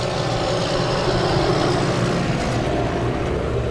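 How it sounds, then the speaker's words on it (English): A tractor rolls past near Amsterdam Schiphol Airport during outdoor plane spotting. Its engine gives a steady broadband rumble at moderate loudness throughout, close and fairly constant, with no talk. "Meanwhile, a tractor is coming this way."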